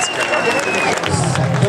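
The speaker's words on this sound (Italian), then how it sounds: "un ultimo applauso fortissimo per Mimmo" A live show crowd applauding loudly and continuously for a performer, with cheering voices mixed into the dense clapping.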